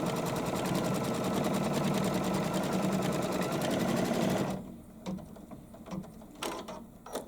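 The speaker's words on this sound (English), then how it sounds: "I'm going to sew the placement stitch for my flamingos' heads." Embroidery machine stitching a pink-thread placement outline on fabric, a steady dense mechanical whirring with rapid needle ticks for several seconds, then stopping abruptly and leaving only faint clicks and small handling noises.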